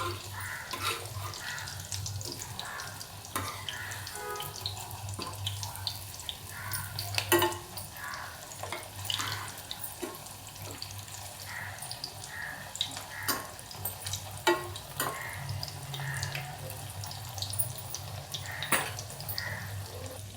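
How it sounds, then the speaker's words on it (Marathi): Pea breakfast patties fry in a pan with a faint, steady sizzle, punctuated by occasional soft clicks and knocks of a spatula. "दोन्ही बाजू अशा चांगल्या तळून घ्यायच्या"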